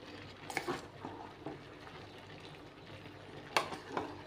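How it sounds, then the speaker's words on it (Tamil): Vegetables and grated coconut masala for avial sauté in a pan, giving a faint, low sizzle with a few soft stirring scrapes and clatters near the start and end. "இந்த தேங்காய் போட்ட உடனே நம்ம 1 நிமிஷம் வதக்கினாலே போதும்."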